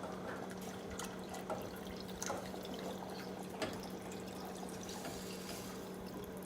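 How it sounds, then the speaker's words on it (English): Vegetable broth pours steadily into a soup pot of crushed tomatoes for a tomato lentil soup, a soft continuous liquid trickle with faint drips, close and quiet, no talking. "And then I'm gonna add in 6 cups of vegetable broth."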